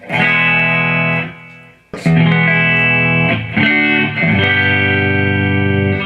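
A thin, hollow-toned 2014 Gibson Les Paul Standard with both pickups on and phase reversed plays several sustained chords and notes, loud and close, with no voices.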